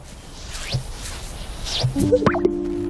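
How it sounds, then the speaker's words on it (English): A male bird's mating display at a lek in open country produces rapid bubbling, watery gulps that build toward a sharp, resonant pop near the end, heard up close. "releases the air in a rapid sequence that produces a sound like bubbling water, followed by a sharp pop"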